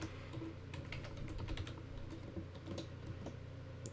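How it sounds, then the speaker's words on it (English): Someone types a password on a computer keyboard, the keys clattering in a quick, steady run of light, close taps with no speech. "type in your desired password and hit enter and retype it again"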